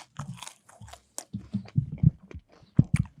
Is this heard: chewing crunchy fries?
yes